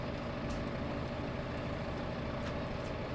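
Farming Simulator 15 tractor engine in the video game, a steady low droning rumble that holds constant throughout without any speech over it.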